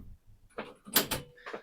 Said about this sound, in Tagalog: kailangan ko na ilock yung pinto ko